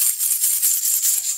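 Small homemade tambourine fitted with bottle-cap jingles, shaken close by in a steady run of bright, rapid metallic rattles, with no talk.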